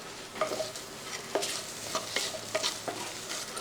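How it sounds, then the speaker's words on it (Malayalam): Sliced onions and curry leaves fry in hot oil in a pan for a fish dish, a soft sizzle broken by repeated scraping stirs of a spoon, close and fairly quiet, with no voices. "ചെറുതായിട്ടൊന്ന് വറുത്തെടുക്കണം"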